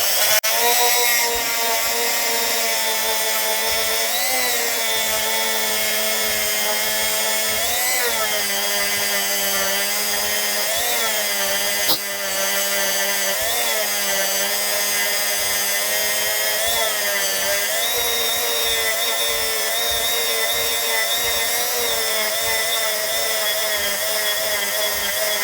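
A 1983 Australian 50 cent coin ring polished on a spinning power tool, a loud, steady high-pitched whine with slight pitch wavers, continuous and without speech.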